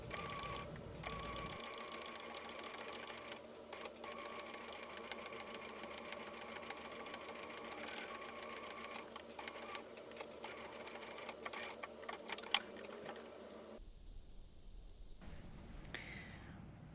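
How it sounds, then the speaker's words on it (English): Sewing machine running a straight stitch along the satin-finished top of a case, a steady close mechanical whir with fine rapid needle ticks, ending with a brief pause and handling sounds. "I'm going to take it to the machine and I'm just going to straight stitch right inside that satin finish on the top of the case."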